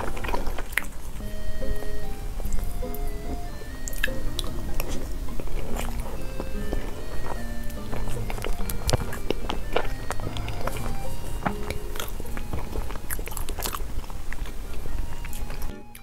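Chewing a pastry filled with pork floss and salted egg yolk, close and steady with soft crunchy bites and mouth sounds running throughout, no talking.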